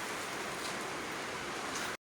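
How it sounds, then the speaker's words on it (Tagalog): Steady rain falls during an outdoor fishing trip, a dense even hiss of drops continuing without break for about two seconds before cutting off. "Sa kasamaang palad, bumagsak ang ulan."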